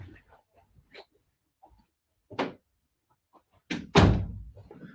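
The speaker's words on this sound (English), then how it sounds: "Let me close the door." A door swings shut with a solid thump, followed by a louder closing knock a moment later, with scattered low household noises and brief voices around it indoors.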